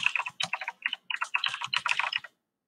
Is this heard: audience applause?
no